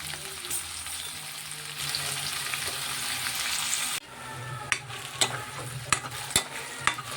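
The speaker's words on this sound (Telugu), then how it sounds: "ఉల్లిపాయ పచ్చిమిరపకాయ ముక్కలు వేసుకొని అలా ఫ్రై అవనిద్దాం బాగా." Onion and green chili pieces frying in a pan for a chicken gravy curry: a loud, continuous sizzle, then a sudden drop to a quieter hiss punctuated by several sharp scraping stirs.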